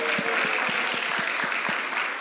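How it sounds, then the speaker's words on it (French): An audience claps for children, a steady round of applause with a few distinct hand claps standing out, close and fairly loud throughout. "Bravo, on peut les applaudir."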